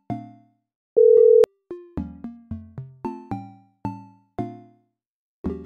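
Game phone ringback in Minecraft: one long steady electronic beep, then a quick run of short plucky chime tones falling and repeating in an even rhythm, clear and close with no talk.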